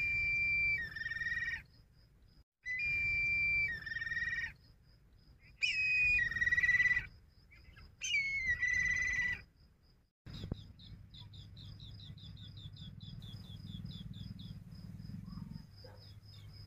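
Birds chirp and trill in the green lands of Malir on a morning walk, with repeated clear song phrases in bursts early on, then a steady run of rapid insect-like chirping beneath faint background hiss.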